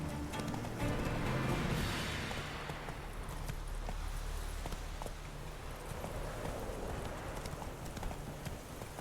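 Roach the horse in The Witcher 3 running, with a steady clip-clop of hooves on ground under a broad, continuous game ambience, close and moderately loud throughout.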